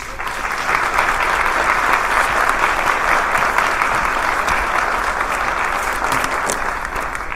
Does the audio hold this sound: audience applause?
yes